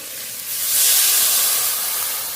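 Spiced water poured into frying masala paste of garlic, cumin, coriander and dried chilli, a sudden loud steamy hiss that swells within half a second and holds steadily, close up with no talking.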